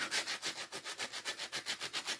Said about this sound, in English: This is a sanding block. See that? I'm just going to rub it on there.